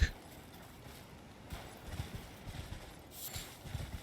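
Horse hooves clip-clop in the Elden Ring video game, with soft, steady thuds of a walking mount and occasional louder hits, quiet and alone.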